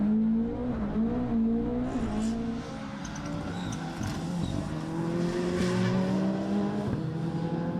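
An onboard view of a rally car driven hard around Donington Park: the engine drones and changes pitch through the gears, while the tires squeal and skid through the corners throughout.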